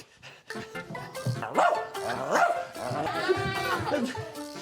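A person imitates a dog barking, giving several loud, playful woofs in a row, close and clear.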